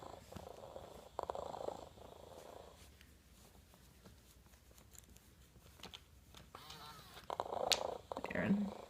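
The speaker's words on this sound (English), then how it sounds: "much more relaxing and less repetitive and synthetic sounding purr" Hasbro Joy for All robotic toy cat giving a soft, relaxed purr that sounds less synthetic than a looping motor buzz, quiet and close, with brief rustles and handling noises rising near the end.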